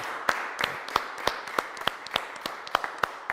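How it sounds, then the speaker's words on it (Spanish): A church congregation applauds during Pentecost Sunday Mass, a brisk patter of many hands clapping at a fairly even pace for a few seconds, moderately loud with no voices over it. "Un aplauso grande para estos hijos, nuestros hijas"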